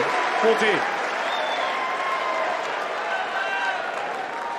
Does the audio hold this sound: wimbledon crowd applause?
yes